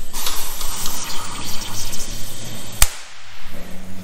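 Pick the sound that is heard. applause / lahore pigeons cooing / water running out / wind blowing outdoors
water running out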